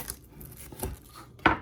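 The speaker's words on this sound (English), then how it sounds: "So what I'm going to do is take this one and cut it like right down the middle" A kitchen knife cutting a broccolini stalk lengthwise on a board: a few soft taps, then one crisp, sharp click near the end, close and quiet.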